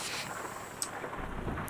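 Rain falls and thunder rumbles in the truck-driving game American Truck Simulator, a steady hiss of rainfall with a low rolling rumble building in the second half, moderately loud and with no voices.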